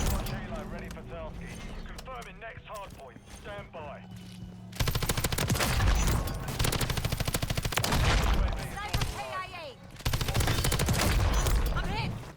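Rapid automatic gunfire in Call of Duty Modern Warfare 3 with a Kastov LSW light machine gun, in several sustained bursts after a quieter opening with a talking voice, loud and close.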